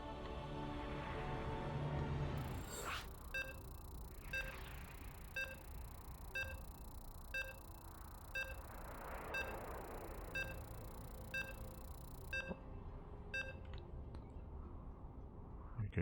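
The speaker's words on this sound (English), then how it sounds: "Okay, you can hear the beeps." Countdown beeps before a StarCraft 2 match begins, a regular series of short electronic tones about one per second, sounding clearly over a steady background hum before cutting off.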